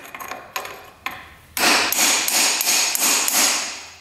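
Claw hammer blows ring against a $600 dirt bike: a few lighter taps, then a rapid run of about six loud, close metallic strikes with a bright ring.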